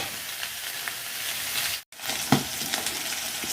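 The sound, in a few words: food frying in oil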